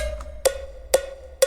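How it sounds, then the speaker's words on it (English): A cowbell loop in a disco pop beat made in FL Studio repeats three times, each sharp metallic hit ringing over a steady, sustained tone, evenly spaced and heard alone. "I have a cowbell loop as well."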